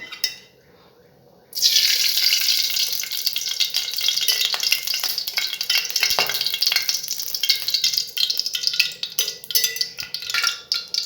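Oil poured into a large steel pan for keerai biryani: after a brief near-silence, a loud, sustained bright hiss and splashy pouring begins and continues with crackly fluctuations, close up.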